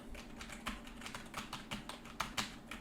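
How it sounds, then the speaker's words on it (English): Rapid, uneven clicking of keys on a computer keyboard, recorded on a Fifine K678 microphone, close and fairly quiet, with occasional louder strokes and no voices. "Now let's listen to the keyboard."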